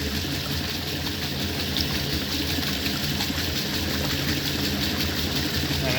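A 1960 Frigidaire Custom Imperial Multimatic washing machine runs with a continuous motor hum and a swishing, watery churn, steady and close throughout, with no talking.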